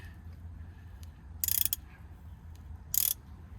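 A ratchet tightens a bolt into a heli-coil repair on a cab-over truck, two short bursts of clicking about a second and a half apart, close and crisp over a low background hum.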